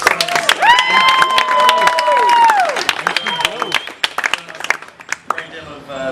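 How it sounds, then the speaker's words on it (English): Wedding guests break into lively applause mixed with cheers and high whooping shouts. The clapping is dense and close, then thins into scattered claps and voices. "Can we just get a round of applause for Joe?"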